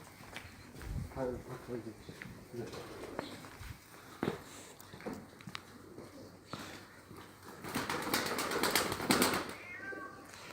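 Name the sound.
pigeons in a dovecote in Dushanbe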